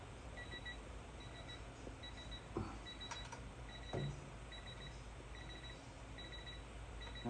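A 2018 Hustler Raptor SD mower with a Kawasaki FR691V engine emits soft, regularly repeating electronic beeps, a low-battery warning, faint against a steady background hum, with a couple of brief clicks along the way.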